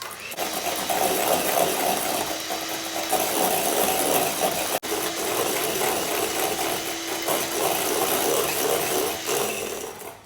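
Keto dalgona coffee mixture being whipped with a whisk, heard as a loud, steady mechanical whir that runs almost without a break, with one brief dropout midway.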